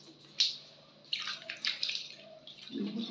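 Water being mixed for a baby's bath, with soft splashes and swishes in bursts through a basin of water, close and fairly quiet, a brief low murmur near the end.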